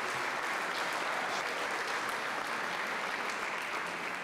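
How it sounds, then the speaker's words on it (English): An audience at a celebration dinner applauds the Ridley Scholars Program, a dense, even wash of many hands clapping that holds steady at a moderate distance throughout. "A round of applause for them and the sponsoring of the bar."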